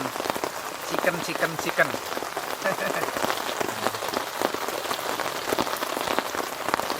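Steady rain patters on a surface at a campsite, a dense close wash of drops continuing throughout, with a brief spoken word over it.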